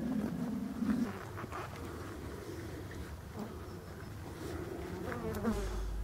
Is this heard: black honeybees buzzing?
yes